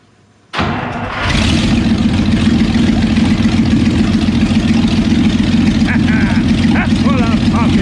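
A twelve-cylinder engine cranks and fires up about half a second in, then settles into a loud, steady, rumbling run close by with no speech over it.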